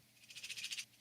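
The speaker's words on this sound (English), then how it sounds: "this is just some sleigh bells" Sleigh bells in an electronic music production shake in a quick rhythmic run of about seven bright jingles, soft and isolated.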